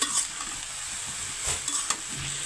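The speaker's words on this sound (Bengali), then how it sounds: "আমি মূলার শাক কিনে নিয়ে আসছিলাম তো এটাই হচ্ছে ভাজি করছি" Radish greens stir-fried in a pan, a steady close sizzle with a couple of brief scraping stirs, no voices.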